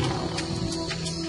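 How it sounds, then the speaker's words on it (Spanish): A lion's deep, resonant roar, loud and close, filling the short moment alone with no talk. "es el rugido lo que diferencia al león y al tigre"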